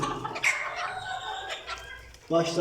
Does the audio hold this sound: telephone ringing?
no